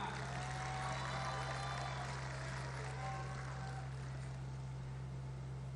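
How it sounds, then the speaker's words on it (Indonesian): Crowd applause at the Golkar party's 59th anniversary gathering: a steady, even wash of clapping that lasts throughout, over a low electrical hum. "Kita beri tepuk tangan yang meriah."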